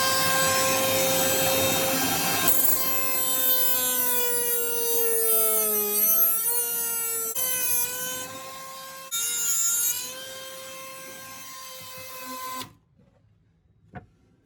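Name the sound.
power tool cutting off screws at full speed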